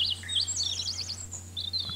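A pet bird in the video game Ein Fall für Mütze & Co chirps in quick, high, warbling trills over a steady low hum, with short pauses between phrases.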